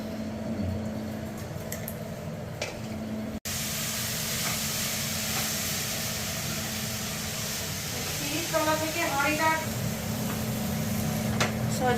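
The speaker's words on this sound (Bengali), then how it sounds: "সজনা ফুল ভাজা হচ্ছে।" Drumstick (sajna) flowers frying in a pan, giving a steady close hiss and sizzle. After a brief break it continues, with a voice speaking briefly near the end.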